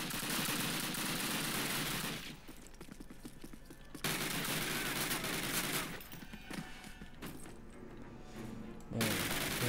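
Rapid gunfire in Call of Duty, steady bursts and volleys filling most of the stretch with brief lulls between, loud and close, no voices over it.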